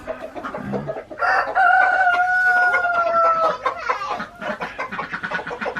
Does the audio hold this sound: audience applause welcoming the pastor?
no